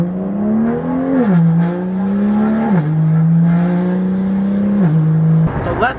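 BMW M car engine in Sport Plus mode droning steadily from inside the cabin, with pitch dips at each gear change and a short rev near the end, loud and continuous.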